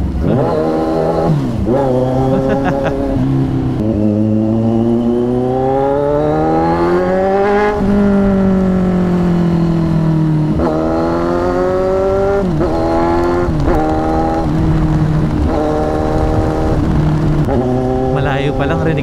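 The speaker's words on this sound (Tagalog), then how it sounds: "Pero talagang nasulit natin yung tunog at kaka-flip-flip ng throttle." A Kawasaki Z1000 motorcycle fitted with an SC-Project 61mm exhaust revs repeatedly, the throttle flipped up and down in loud, close, rising and falling blips with a deep raspy growl, while someone talks over it.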